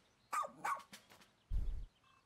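Oatchi, the dog companion in Pikmin 4, gives a few short, close barks, with a pair of yips followed by a lower, throatier woof.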